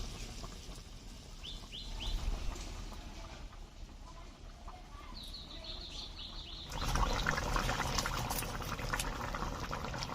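Fish curry gravy with rohu fish and sweet pumpkin boils in a pan with a steady bubbling, which grows louder and fuller in the second half. Faint chirps sound in the background.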